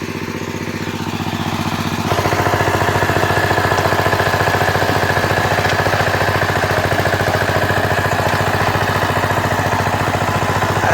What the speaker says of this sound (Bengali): পাওয়ার টিলার তো নতুন, বিশাল সুন্দর কাজ করতেছে একদম